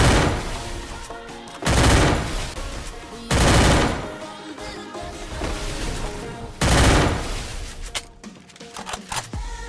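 Shotgun fire in a video game comes as a few loud, booming blasts spaced a second or two apart, with busier game sounds and crackle between them.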